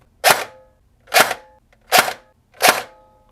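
An airsoft P90 upgraded with a Perun mosfet fires on semi-auto, four sharp, evenly spaced shots about a second apart, loud and close with silence between them.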